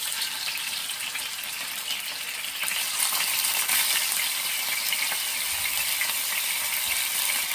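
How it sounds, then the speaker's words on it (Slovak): Fish fillets fry in hot oil for a braised fish with tomatoes and lemon, giving a dense, constant sizzle and crackle that grows louder partway through as more fillets hit the pan, with no voices. "Keď bol olej dostatočne rozohriatý, opiekol som na ňom pripravené filety."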